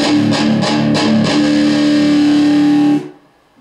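Heavily distorted electric guitar chords through a Danelectro Fab Metal D-3 distortion pedal, played loud with a few rhythmic strums, then a sustained ringing chord that cuts off abruptly into near silence.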